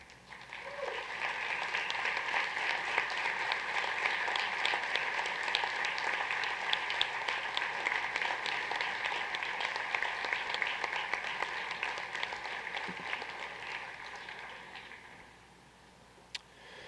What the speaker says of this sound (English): Please stand for a round of applause